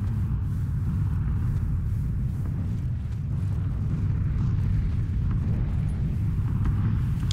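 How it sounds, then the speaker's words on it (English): Distant mortar explosions from the red zone in the PUBG video game, a continuous heavy low rumble with dull booms rolling steadily throughout, loud and dense with no talk. "Red zone mortars are going off like hell over there."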